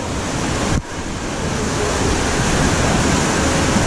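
Rushing water on an amusement park rapids ride at Linnanmäki, a loud, steady broadband roar of churning water and wind that dips briefly near the start and then continues unbroken.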